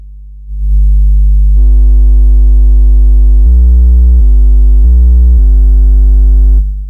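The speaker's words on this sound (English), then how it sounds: "We've got 50 and 60 hertz hum." Loud, steady low simulated mains hum with buzzy harmonics, switching between 50 Hz and 60 Hz pitches back and forth before cutting off.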